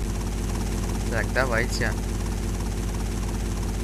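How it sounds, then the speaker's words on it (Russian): A helicopter fitted with a magnet flies in the video game GTA Vice City Stories, its rotor and engine drone steady and loud throughout while someone talks briefly over it. "Вертолет у нас такой с магнитиком."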